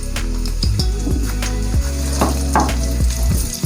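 Sliced medium onion frying in ghee: a loud, close, continuous sizzle with repeated scrapes and knocks of a spoon stirring it around the pan.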